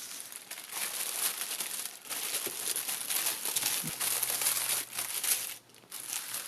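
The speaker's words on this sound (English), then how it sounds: "Love the pink tissue paper." Pink tissue paper crinkles steadily as a gift package is unwrapped, a close, continuous rustling with a few brief pauses and no talk.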